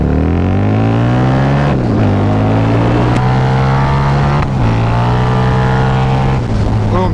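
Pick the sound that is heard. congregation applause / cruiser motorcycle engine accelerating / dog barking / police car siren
cruiser motorcycle engine accelerating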